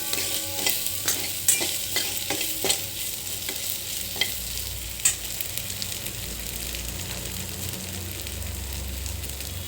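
Spice powder, turmeric and salt roast in a pan, sizzling with frying noise and repeated scraping stir strokes at close range, steady and unbroken, with no talk.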